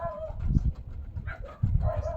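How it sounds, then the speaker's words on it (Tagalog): Dogs barking and yelping in short bursts, somewhat distant, with faint bird calls in the background. "maingay ang mga aso sa labas"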